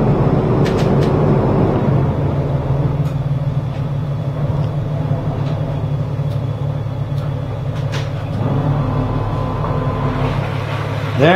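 A Meridian motor yacht's stern thruster drones loudly and steadily with a low mechanical hum and rumble while docking in a boat shed, shifting pitch near the end.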